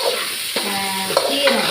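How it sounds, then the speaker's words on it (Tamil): Dried chilies, tomato and cumin sauté in a pan, a loud close sizzle broken by a couple of scraping stirs. "பச்சை மிளகாய் இதெல்லாம் போட்டு இதை நல்லா வதக்கிக்கிடலாம்"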